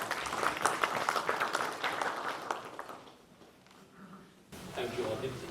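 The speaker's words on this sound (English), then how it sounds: "A warming clap would be appreciated." Audience applause at a college Constitution Day celebration, a steady crowd clapping for about three seconds that thins out, then a voice starts speaking near the end.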